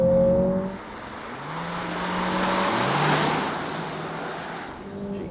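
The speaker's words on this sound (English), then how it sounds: "immediately I can hear the fake noise. They plumb into the cabin" A steady engine drone fills the cabin of a 2023 Lexus RX turbo hybrid, swelling as the throttle opens, with a smooth synthetic-sounding tone piped into the cabin layered over road rumble.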